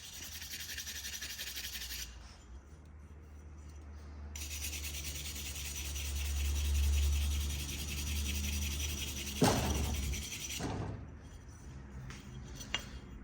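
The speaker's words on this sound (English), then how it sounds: "Get all that rust off of there." Abrasive scraping of rust from a metal part of a Remington 135 kerosene heater, steady rough rubbing strokes close by with a few brief pauses and light metallic clinks near the end.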